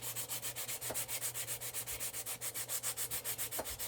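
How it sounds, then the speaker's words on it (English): Rhythmic back-and-forth rasping of sandpaper on a sanding block rubbing a mug, fast and even strokes, close by and quiet, with no voices. "I put it on my little sanding block. And you're just going to sand it."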